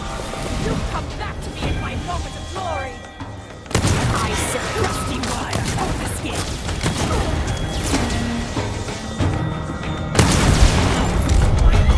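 Explosive bullets fire in Dishonored 2 with heavy booming impacts and sudden loud bursts over dense game noise. A voice talks intermittently through the mayhem.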